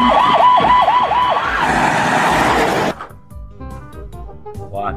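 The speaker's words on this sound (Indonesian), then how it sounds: "Kalau yang ini ambulan teman-teman." A toy ambulance's electronic siren wails loudly in a rising and falling cycle for about three seconds, then cuts off, leaving quieter faint tones and clicks.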